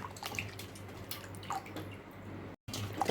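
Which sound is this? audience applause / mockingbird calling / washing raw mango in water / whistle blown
washing raw mango in water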